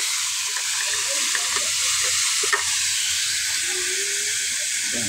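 Onion frying in a pan over a wood fire, a loud, steady sizzling hiss with a few faint crackles and stirring scrapes, no talk.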